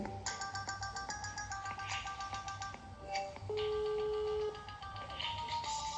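An incoming-call ringtone plays from a North Edge CR04 smartwatch, a quiet repeating electronic melody of bright beeps with one longer sustained tone partway through.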